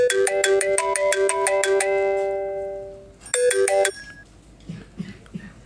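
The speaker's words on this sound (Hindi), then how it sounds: "तो सॉरी, फ़ोन आ गया था।" A mobile phone ringtone plays a bright melodic tune of rapid repeated tones, pauses, then resumes with a short burst before cutting off, loud and close with no speech.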